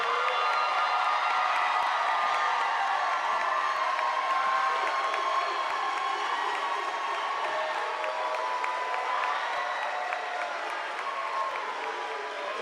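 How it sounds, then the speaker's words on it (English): A graduation ceremony crowd at SAE Institute applauds and cheers for graduates, loud continuous clapping mixed with whoops and shouts filling the hall throughout. "Can we get a round of applause for our graduates?"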